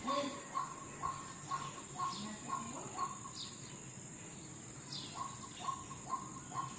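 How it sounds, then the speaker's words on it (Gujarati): Outdoors near a tree with light rain expected, a bird calls in short repeated chirps from a moderate distance, mixed with a steady high insect drone and faint ambient noise. "અહીંયા કંઈક બોલે છે પક્ષી અહીં ઝાડમાં"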